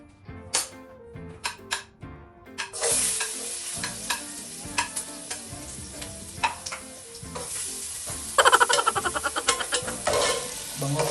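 Garlic sizzles in a pan while a utensil stirs and scrapes it, sharp clinks and taps over a crackling fry for goto beef tripe porridge, growing louder toward the end.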